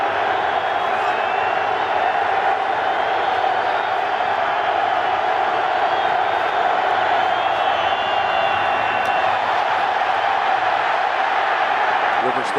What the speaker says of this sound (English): now you hear the boos coming out